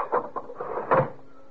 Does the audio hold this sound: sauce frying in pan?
no